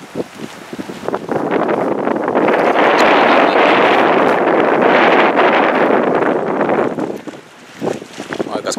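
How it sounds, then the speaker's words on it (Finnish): Strong, roaring wind gusts on a high rock buffeting the microphone for several seconds, swelling and then easing, with faint flapping in between. "eikä se tuuli tyynny"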